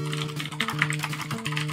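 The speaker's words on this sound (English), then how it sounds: "I apologize for the typing noises." Rapid computer keyboard typing, a close flurry of uneven clicks and key taps, rattles over tonal retro game music from Rick Dangerous 2.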